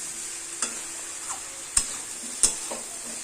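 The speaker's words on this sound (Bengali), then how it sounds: "ভালো করে নাড়তে হবে" Steady sizzle of fried shrimp in a pan, with three sharp scrapes of a spatula stirring and a few softer clinks between them.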